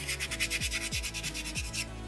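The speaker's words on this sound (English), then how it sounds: "I want that sandpaper to kind of fill that area." Sandpaper is rubbed over a small soapstone beaver carving in quick back-and-forth strokes, making a close, even, rhythmic rasping scrape that repeats steadily with no talking.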